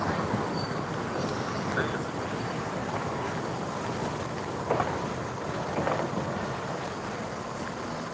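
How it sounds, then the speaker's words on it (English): Small narrow-gauge steam locomotive Palmerston, rebuilt for the Ffestiniog Railway, running at a steam festival: a steady, loud rolling rumble of the train throughout with faint wheel squeal and a few brief clanks, no talk. "So you can see Palmerston is a much smaller locomotive."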